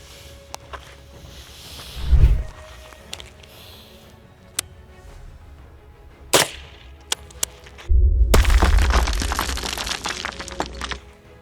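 Military ammunition fired at a body armor plate: one sharp, loud gunshot crack stands alone midway, framed by fainter knocks and handling noise, with a broad burst of rumbling outdoor noise following toward the end.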